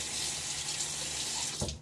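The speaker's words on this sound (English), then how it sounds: "I'm gonna rinse." Water runs steadily from a bathroom tap during a wet shave rinse, a close, even hiss that cuts off abruptly near the end.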